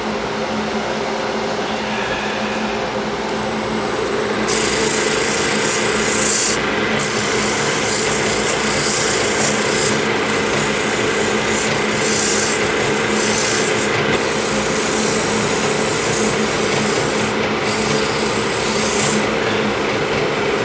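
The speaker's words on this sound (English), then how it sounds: "This case I'm going to have to sand it in steps because I've got it between the centers" Sandpaper rubs against a wooden sphere spinning between centers on a lathe, a steady broadband rasping hiss over the lathe's hum with dust collection running, growing louder and holding near and continuous.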